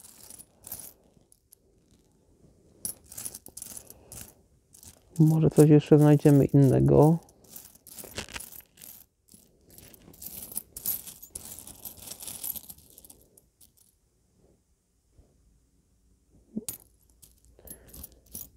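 Coins, including a Portuguese silver escudo, clink and rattle as they are sorted and handled close up, with repeated metallic jingles and a loud stretch of tumbling coins while someone talks in Polish.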